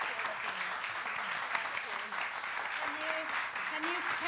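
Applause at a children's costume performance, a steady, moderately loud round of clapping from a small audience, with voices talking over it.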